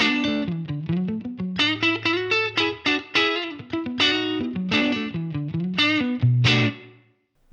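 Electric guitar played through an HX Stomp amp and cab model with a dynamic ambience reverb, a riff of picked notes and chords with distortion, close and loud, ringing out into a short tail at the end.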